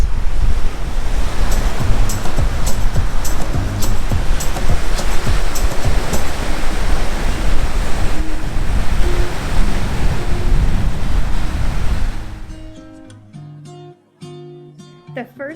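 Strong wind and crashing surf on Lake Superior at Warp Bay, a continuous loud roar of waves and microphone-buffeting gusts that drops away abruptly near the end.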